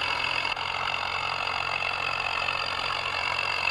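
A Swaraj tractor engine drones steadily in the Indian Vehicle Simulator 3D game, running at about 1200 rpm in top gear. It makes a continuous, even mid-pitched rumble that stays constant throughout, with no voices.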